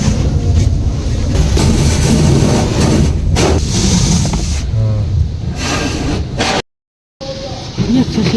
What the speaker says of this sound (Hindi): पानी का प्रेशर बहुत था, उसकी आवाज़ बड़ी अच्छी आ रही थी।